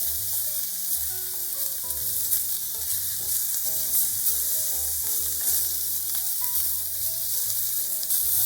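Salmon pieces frying in a pan with soy sauce, a steady close sizzle with occasional stirring scrapes and no talk.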